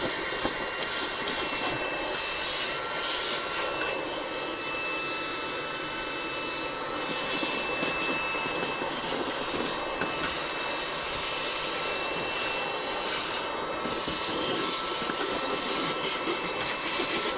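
A Fanttik V10 APEX handheld vacuum cleaner runs continuously on a floor, giving a steady high-pitched whine and airy hiss with slight shifts in pitch as it is moved around.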